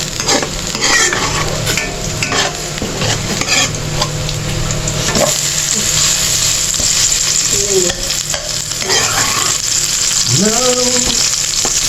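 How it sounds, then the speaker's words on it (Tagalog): Bananas fry in a pan, with a loud continuous sizzle and occasional scraping of a utensil stirring them, close up as faint voices and music play underneath. "Banana fried."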